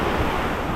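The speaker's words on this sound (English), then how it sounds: "then you got waves crashing right under your feet" Ocean waves crash against the rocks below a Bali beach cliff, a loud, continuous roar of surf with heavy wind buffeting the microphone and no voices.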